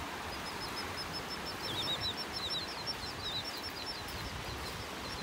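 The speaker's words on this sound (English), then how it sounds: "Chirping away." Terns chirp on a sandbar at a beach in North Naples, Florida, a flock giving rapid, high, repeated calls at moderate distance over steady wind and surf noise, with no speech.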